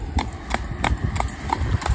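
Horse hooves clip-clopping on a wet road in heavy traffic, a steady even rhythm of sharp close strikes, roughly three per second, over a rumbling background.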